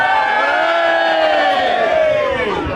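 A comedy Christmas show audience lets out a loud, sustained cheer with whoops, a dense roar of many voices that holds steady throughout.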